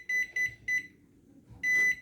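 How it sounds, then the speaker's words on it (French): A 560-watt microwave oven beeps three times in quick even succession, then falls quiet before one longer beep, all sharp, close and clear over faint background noise. "il y a mon micro-ondes qui fait du bruit, je suis juste à côté"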